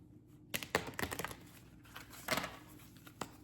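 Tarot cards being shuffled by hand during a pick-a-card reading, a quiet run of soft papery riffles and taps in short bursts, close and low in level with no talking.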